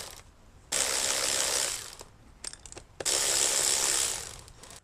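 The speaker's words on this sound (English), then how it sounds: "I'm removing this bolt here, and then this two bolts are holding this bracket here out." A ratchet removing bolts from the engine of a 2019 Honda Accord, with two long loud bursts of rapid clicking and a few short ratchet strokes between them, close up.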